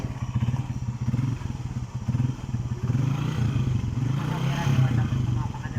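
Motor tricycle engine idling and revving steadily during a driving lesson, a loud continuous low drone with rising rev swells, heard under an instructor's talk.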